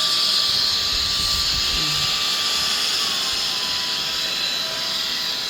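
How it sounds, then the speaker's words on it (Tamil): A young girl runs a vacuum cleaner through a home during a cleaning session, giving a loud, steady hissing whine that holds unchanged from start to finish. "தென் நம்ம சாய் பாப்பா என்ன பண்ணுறாங்கன்னு பார்த்தீங்கன்னா வேக்யூம் போடுறாங்க ஃபுல்லாக."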